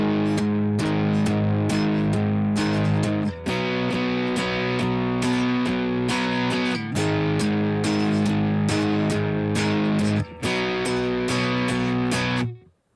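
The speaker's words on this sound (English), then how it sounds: "The chorus section continues with a steady eighth note rhythm with more power chords." Distorted electric guitar chugs steady eighth-note power chords through the chorus of a song, loud and continuous with brief gaps at chord changes, no talking.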